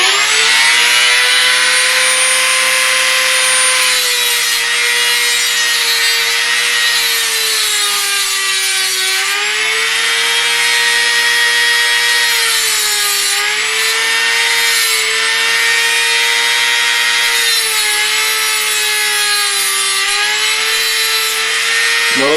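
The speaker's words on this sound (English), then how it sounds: "when you're doing a Dremel, you always want to make the wheel crawl into what you're working on, not fight against" A Dremel rotary cutting wheel grinds into a metal lockpick blank, a loud, continuous high-pitched whine that rises and dips slightly in pitch as the wheel bites, close and sustained throughout.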